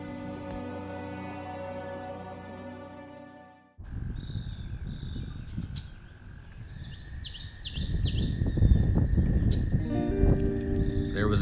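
Birds sing and chirp at a marina dock in Carolina Beach, a series of bright calls over a steady low background hum of water and wind, with a separate tonal drone at the start.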